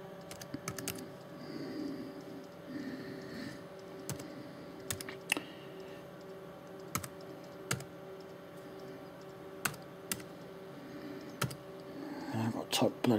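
Keys tapped on a laptop keyboard in scattered clusters of sharp clicks, with a steady electronic hum underneath and a burst of quicker typing near the end; quiet, close by.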